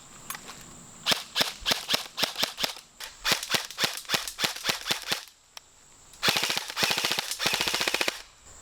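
A G&G Combat Machine airsoft gun fires from its stock magazine in several rapid bursts of sharp, snapping shots, with brief pauses between strings and a final dense, louder volley near the end; no talking.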